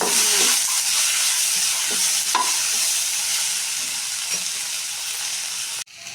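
Green tomato and green chillies fry in a pan for chutney, giving a loud, steady hissing sizzle with occasional spatula scrapes. The sound stays close and continuous before a sudden break near the end.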